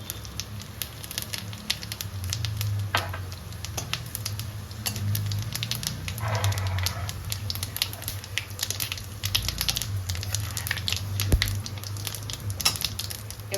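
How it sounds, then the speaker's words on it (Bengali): Dried red chilies and whole cumin seeds crackle and sizzle in hot oil left from frying prawns in a Bengali kitchen, a steady close frying hiss with scattered pops and crackles throughout. "তিনটে শুকনো লঙ্কা দিলাম গোটা জিরে"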